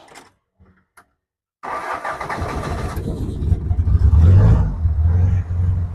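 After a few faint clicks and silence, an Isuzu 4BE1 diesel engine cranks and fires, settling into a loud, rough idle with a deep, rumbling knock and a brief surge partway through.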